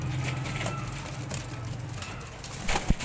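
A Sialkoti female pigeon coos in low, throaty, steady tones for a few seconds against a hissy background, ending in a brief louder thump.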